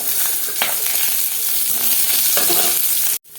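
Onions frying with mustard seeds in coconut oil make a loud, continuous crackling sizzle with occasional stirring scrapes, then cut off abruptly near the end.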